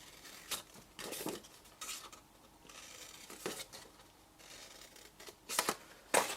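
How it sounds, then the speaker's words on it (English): Scissors snipping along the score lines of a sheet of Stampin' Up! designer series paper, a series of quiet, close, crisp cuts spaced irregularly, with no talk. "and then cut up the score lines."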